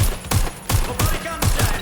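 Rapid bursts of automatic gunfire in the video game Watch Dogs Legion, loud and close, coming in four or five quick volleys with short gaps between them.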